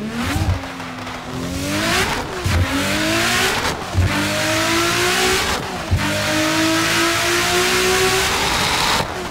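An outrageous-sounding car in Assetto Corsa with the custom shaders mod, its engine repeatedly revving up through the gears in rising sweeps, cut by short drops at each shift, loud and close.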